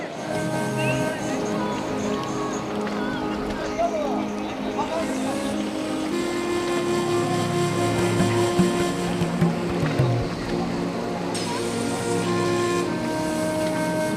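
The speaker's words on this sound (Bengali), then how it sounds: "এখানে সমুদ্র কিন্তু বেশ গর্জন করছে" A steady roar of surf at Bakkhali sea beach washes across the whole stretch, mixed with a low engine hum and scattered voices of a crowd on the shore.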